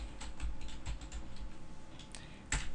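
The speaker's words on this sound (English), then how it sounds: "So we type the word Quick Embed" Keys clatter on a computer keyboard as a phrase is typed in quickly, a close, light run of irregular clicks that ends with one firmer keystroke, with no voices.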